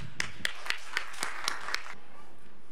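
Audience at an agriculture and food deans meeting giving a short round of applause after a speaker's welcome, roughly eight distinct, evenly spaced claps ringing in a reverberant hall, fairly faint, then stopping.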